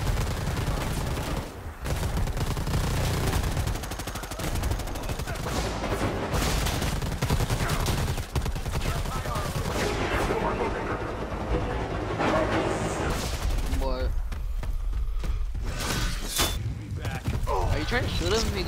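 Rapid video game gunfire crackles almost nonstop, dense bursts layered over loud in-game rumble and noise, with players talking over the action throughout.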